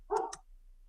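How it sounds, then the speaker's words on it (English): A dog gives a single short bark, quite close and clear, followed by silence. "sorry for the barking in the background"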